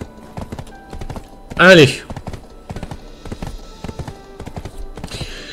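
Horse hooves clip-clop in the online game Black Desert Online, a steady run of light taps under someone talking, with a brief loud whinny-like burst partway through.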